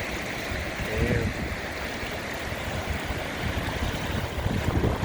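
Rain runoff flows in a small eddying stream on a rainy day, making a steady, close rush and gurgle of water, with a voice briefly audible.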